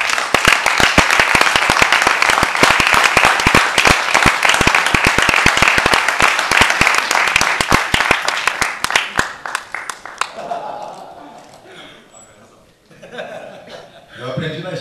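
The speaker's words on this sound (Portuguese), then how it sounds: "Uma salva de palmas" Audience applause, dense and loud with sharp individual claps and some chuckling, rolling for about nine seconds before thinning to scattered claps and fading into talk.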